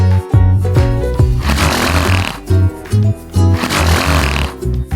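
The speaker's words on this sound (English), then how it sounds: "Mule." A mule brays loudly and near, a repeated harsh rhythmic hee-haw of alternating wheezing inhales and honking exhales that runs on for several seconds.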